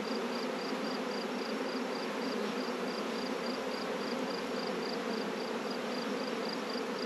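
Honey bees buzz around an open hive in a dense, continuous drone that fills the air evenly throughout, close and steady, with no voices.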